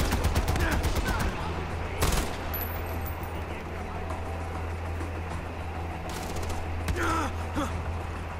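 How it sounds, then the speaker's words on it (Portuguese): Enemy gunfire in the open-world shooter Far Cry 4, rapid automatic bursts at the start and again near the end, with an ambient hum and someone speaking in between. "Dois atirando em mim."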